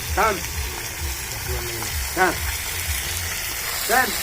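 Meat frying with onions in a karahi, a steady close sizzle running throughout, with a few sharp metallic scrapes of stirring at regular intervals.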